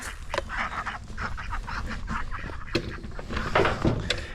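A group of ducks quack and honk continuously while being fed, a busy, moderately loud chorus of overlapping calls with no talk.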